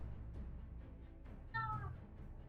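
Cat giving a short, clear meow near the end, faint against a low background rumble, after a stretch of quiet murmuring sound.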